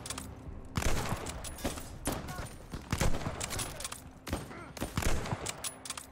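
Bursts of gunfire in Call of Duty Vanguard, several rapid volleys of sharp shots coming in irregular clusters, fairly close and loud, with no talking over them.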